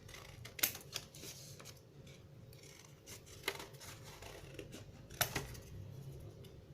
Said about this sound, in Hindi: इससे हम लीव्स काट लेते हैं।